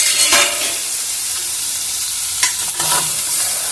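Ridge gourd peel and tomatoes stirred in a frying pan, giving a steady close sizzle with a few scraping strokes of the spoon against the pan, no voices.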